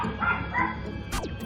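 A family dog barks at a woman entering the home through an unlocked door, a few short yips indoors at moderate level over a steady background hum.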